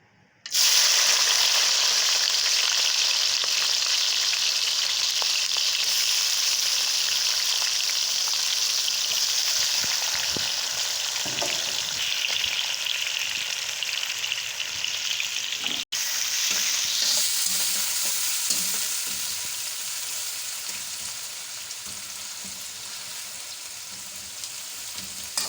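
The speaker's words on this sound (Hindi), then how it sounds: "3 अदद हमने प्याज बारीक बारीक काट लिए थे, उनको कर लेंगे फ्राई।" Finely chopped onions drop into hot oil and burst into a loud, sustained sizzle that slowly softens over time, with occasional stirring clinks and scrapes.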